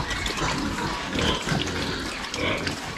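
Several pigs grunting and snuffling close by in a farm pen, a steady busy mix of low grunts and rooting noises, with some water running in the background; the pigs are more than three months past weaning.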